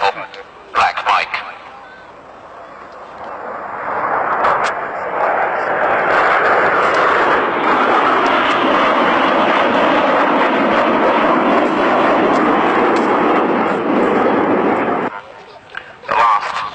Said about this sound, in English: Donald Douglas Phantom FG1 in the special all-black colour scheme, hence the title Black Mike.